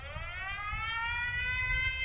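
A beach evacuation alert system siren sounds during a test, a steady electronic wail slowly rising in pitch, loud and continuous over a low background rumble, with no voices.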